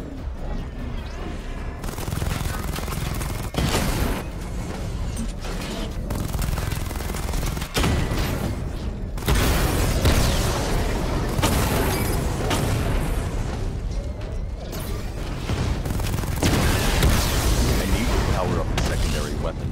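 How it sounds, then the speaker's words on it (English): Missile barrage fire in Batman Arkham Knight, with dense overlapping booms, blasts and gunfire-like bursts running steadily over about twenty seconds, loud and continuous with a few brief breaks. "Charge up missile barrage to level 2 and destroy 4 active targets to complete diagnostic test."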